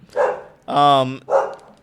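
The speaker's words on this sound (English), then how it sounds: "I think someone's here because the dogs are barking." Dogs give three loud, close barks in quick succession. The middle bark is the longest and has a strong, clear tone.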